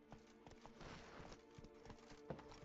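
Horse galloping in the video game Witcher 3, rapid rhythmic hoofbeats thudding steadily across the whole stretch, quiet and alone.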